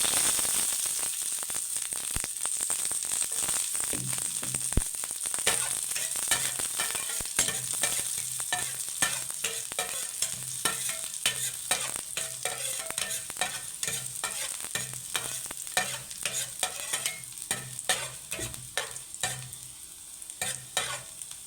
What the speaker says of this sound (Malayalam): അങ്ങനെ കടുക് പൊട്ടിക്കൊണ്ടിരിക്കുകയാണ്.